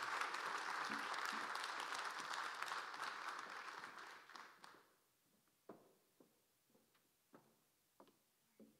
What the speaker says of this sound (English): please give Suli a big inspired round of applause